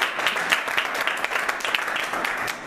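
Church congregation applauding, a dense burst of rapid clapping from many hands, loud and close, sustained throughout with no pauses.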